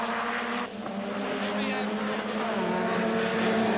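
A touring car's engine in the 1989 British Touring Car Championship roars at a high, steady pitch as it speeds down the straight at about 160 mph, a continuous loud drone with a slight shift in tone.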